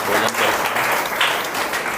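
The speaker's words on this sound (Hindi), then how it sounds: "एक बार आप सभी मिलकर उनके लिए भी जोर से ताली बजाएंगे।" A crowd claps loudly at a Raksha Bandhan gathering at an Om Shanti Bhawan in Mathura Refinery Nagar; dense, sustained applause fills the whole stretch at close range.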